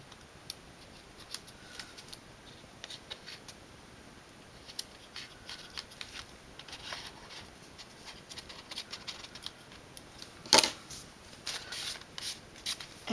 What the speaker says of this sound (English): then I can just trim the tails a little bit